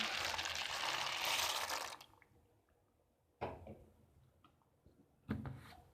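Macaroni tips into a pot of boiling salted water, giving a loud broad rush and splash for about two seconds, then quieter bubbling broken by two short sharp clatters or splashes.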